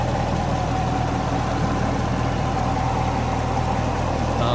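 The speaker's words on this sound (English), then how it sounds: "It's a V8 engine." A 2017 Chevrolet Camaro SS 1LE's 6.2-liter V8 idles with a steady, close, low rumble and an even mechanical hum that holds without change throughout.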